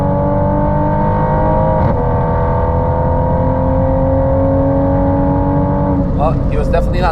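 Inside a hybrid turbo Toyota Supra accelerating hard at the Nürburgring, a loud, steady engine drone climbs in pitch for several seconds, with sharp whooshing turbo or shift noises near the end.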